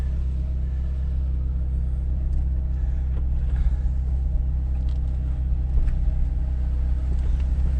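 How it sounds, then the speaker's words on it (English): A 1992 Honda Accord with an intake leak drives around a neighborhood. Its engine and road rumble make a steady, loud, continuous drone from inside the car, with no talk. "I'm just gonna drive it around the neighborhood this way when it breaks"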